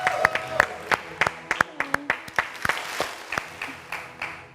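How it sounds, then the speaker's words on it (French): A studio audience at a live TV show clapping in a thin, sparse way. Sharp separate claps come at a quick, fairly even pace over a faint tonal background. "On applaudit très fort"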